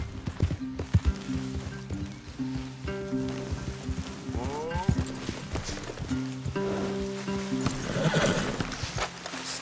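Horses in Red Dead Redemption 2 whinny and snort while hooves clip-clop nearby, several neighs rising over shuffling steps and ambient game sound in a wooded spot, with intermittent talk from characters.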